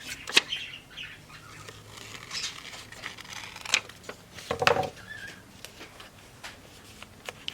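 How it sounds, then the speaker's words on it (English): Scissors cut through paper around a cup shape in a crafting session, giving several quiet, irregular snips and crisp crinkles spread across the stretch, with no talking. "I'm gonna go ahead and cut around the cup."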